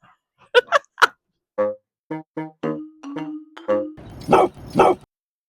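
Dogs bark in short, separate bursts, a few sharp yaps followed by deeper woofs, loud and close with quiet gaps between.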